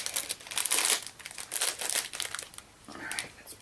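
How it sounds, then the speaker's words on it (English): Plastic packaging crinkles and rustles in close, irregular bursts as handmade cards are pulled out, with no talk over it. "Excuse the rustling again while I pull them out of the packaging."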